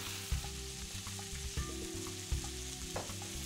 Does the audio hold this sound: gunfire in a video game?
no